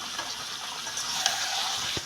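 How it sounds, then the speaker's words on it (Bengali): Chillies frying in a pan with turmeric powder added, a soft, even sizzle of oil with a few light stirring clicks near the end. "লঙ্কা ভাজা হয়ে গেছে"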